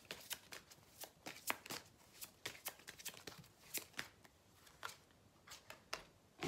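Oracle cards being shuffled by hand, a quiet run of crisp riffling flicks in uneven rhythm, close and soft with no talking.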